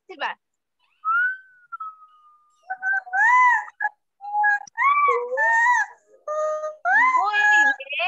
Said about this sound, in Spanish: A ver, un silbo. A ver, vamos a silbar.